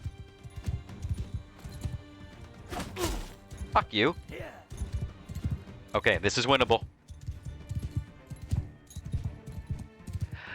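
Horse hooves clip-clop during a Mount and Blade: Bannerlord battle, mixed with clashing weapon hits, thuds and rising whooshing effects, while someone talks over the game sound.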